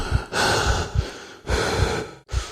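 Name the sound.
heavy breathing in a video game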